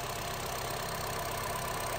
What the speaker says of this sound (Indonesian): mesin juga gak ada rembes masih halus mesinnya masih bagus tuh oke Honda Jazz